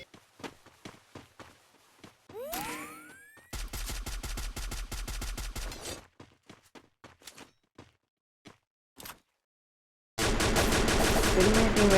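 A battle royale video game with sniper play fires long rapid bursts of automatic gunfire between quieter footsteps and single shots. Some bursts are loud and close, and one sweeping whine passes early on.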